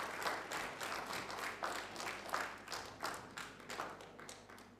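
Scattered, fairly quiet applause from a small audience welcoming a speaker, with distinct individual claps coming in an uneven rhythm.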